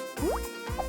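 Colored water poured into a test tube, a short gurgling fill with a rising pitch sweep and a small plop, quick and close.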